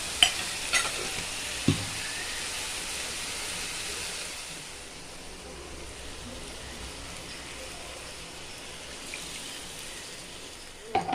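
Chicken pieces fry with turmeric and chili powder in hot oil, a continuous broadband sizzle that softens midway, with a few brief clanks of a ladle at the start and end.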